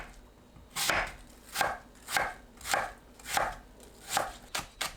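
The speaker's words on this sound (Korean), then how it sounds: "사과를 채 썰어 주세요." A knife cuts an apple into thin julienne strips on a cutting board, giving about eight evenly spaced, close and distinct chopping thuds at a steady rhythm, with no voices.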